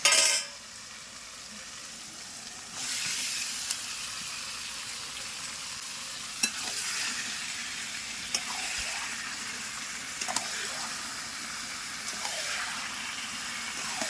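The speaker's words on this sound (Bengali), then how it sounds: "এবার কেটে রাখা চিকেনটা এর মধ্যে দিয়ে দেবো" Chicken pieces going into oil-released fried spice paste in a pan for Bengali chicken kosha, giving a steady close sizzle with intermittent sharp clinks and scrapes of stirring.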